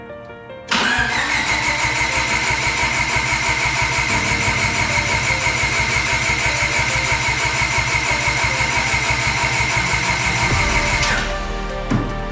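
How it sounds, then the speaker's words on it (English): A turbocharged Honda D16Y8 engine with its injectors unplugged cranks over on the starter in a loud, steady, rapid churning rhythm that runs for about ten seconds and then stops, with no talking. "It cranks"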